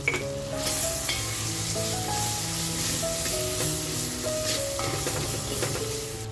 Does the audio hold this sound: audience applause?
no